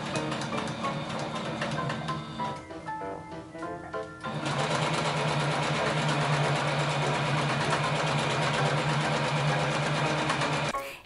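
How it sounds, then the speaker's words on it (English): Sewing machine stitching the side seam of a thrifted costume dress, a steady mechanical whir that pauses briefly near the middle, then runs louder and continuously to the end, alone without talk. "So now I'm gonna sew up the side seam and underarm seam"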